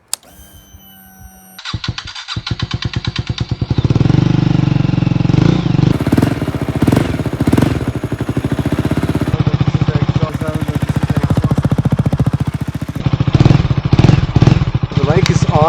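A KTM 250 motorcycle is cold started after 120 days of storage at -5 °C: a short starter whir catches into a loud, close engine that keeps running in a steady, rapid idle with occasional blips of revs.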